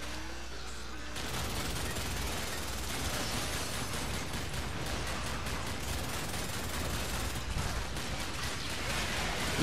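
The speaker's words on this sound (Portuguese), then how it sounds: "Eu tô pulando justamente pra evitar os tiros do cara" Sustained rapid gunfire from the PS3 vehicular combat game Twisted Metal, dense bursts rattling continuously and loudly almost from the start to the end.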